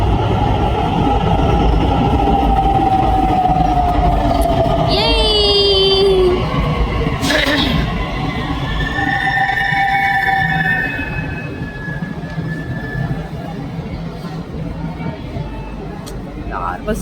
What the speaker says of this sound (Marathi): आपली मेट्रो आलेली आहे.